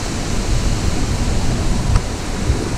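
Las Buitreras waterfall in Maule, a steady, loud broadband roar of falling water with a deep low rumble, continuous throughout with no talk.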